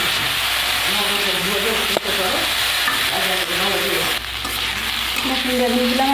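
Eggplant sizzles steadily in a hot pan with turmeric as it finishes frying, a loud continuous hiss with occasional stirring scrapes and clatters, while a voice murmurs faintly underneath.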